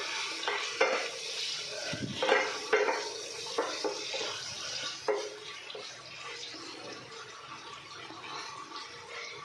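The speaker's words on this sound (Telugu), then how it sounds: "ఇప్పుడు మనం వేసిన ఉప్పు పసుపు బాగా కలిసేలాగా ఒకసారి కలుపుకుందాం" Raw prawns with salt and turmeric are stirred in a frying pan of oil, a steady close sizzle with repeated scraping and clattering strokes of the spoon, continuous and without speech.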